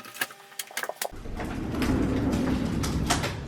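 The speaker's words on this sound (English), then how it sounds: "and Ali is going to kindly open up the bifold doors." Bifold doors open onto a courtyard. A quick run of sharp clicks and knocks gives way to a steady, rumbling slide, with pigeons faintly cooing outside.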